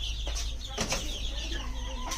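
Laying hens of a desi backyard flock cluck in short bursts amid a brief flutter of wings, a fairly close but soft farmyard sound with no talking.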